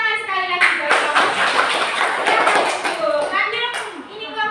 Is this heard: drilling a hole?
no